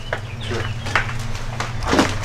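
A bird calls a few times in short bursts against a steady low hum and outdoor noise, with no voices.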